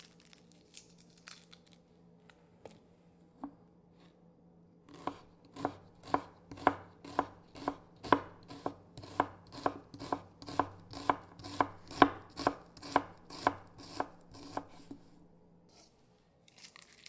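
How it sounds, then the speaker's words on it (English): A knife slices shallots thinly on a cutting board in a quick, steady series of crisp chops, about two per second, close and clear, with no talking. "I'm slicing shallots thinly"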